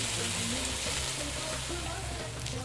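Onions frying in a pan in the cooking game Venba, a dense continuous sizzle with crackling spatter, even and close, with a soft low musical bed underneath.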